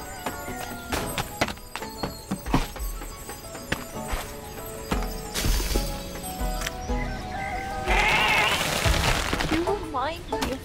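Goat bleating in the video game Goat Simulator 3: a wavering cry near the end, after a stretch of clattering, crashing game effects.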